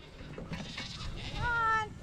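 Goats on a farm bleat, with one clear wavering bleat near the end above soft background noise and faint voices.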